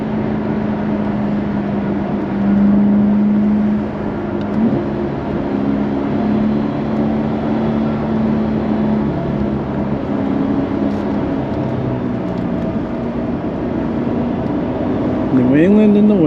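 2022 Corvette 3LT engine accelerating with paddle shifting, a loud drone rising and dropping in pitch through several gear changes, with a sharp rev near the end and occasional talk over it.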